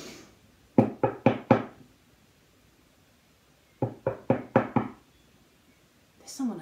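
Two bursts of firm knuckle raps on a door in a quiet home, four or five evenly spaced knocks each, separated by a few seconds of silence, with a brief voice starting at the very end.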